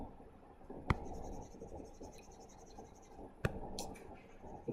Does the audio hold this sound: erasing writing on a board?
yes